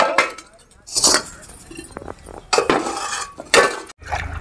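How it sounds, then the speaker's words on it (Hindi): Pots and dishes scrubbed clean with ash by hand, a series of metallic clanks, scrapes and clinks in irregular bursts at close range, with soft murmurs between. "तो पहले बर्तन को धुल लेते हैं"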